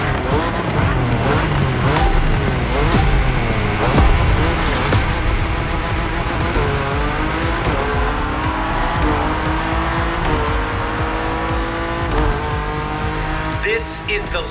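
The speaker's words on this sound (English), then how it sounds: "Koenigsegg, fastest hypercar of the day." Koenigsegg hypercar racing in The Crew Motorfest video game: a loud engine screaming up and down through gear shifts with squealing tires and skids, continuous and close, with excited voices talking over it.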